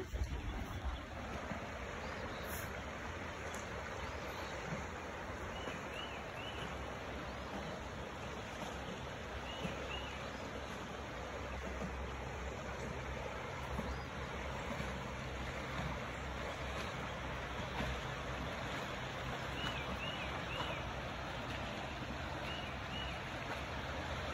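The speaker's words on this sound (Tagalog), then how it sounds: "Stream running, birds singing." Steady outdoor water flow from a running stream on a sunny day, a continuous broadband rush filling the whole recording, with faint high bird chirps scattered lightly above it.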